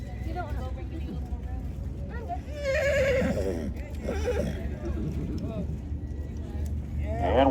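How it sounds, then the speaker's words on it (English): Horses whinny loudly a few times, shrill neighs rising over a low steady murmur and distant background noise, at the MFTHBA World Show & Celebration, a Missouri Fox Trotting Horse show. "we've got some very vocal horses tonight"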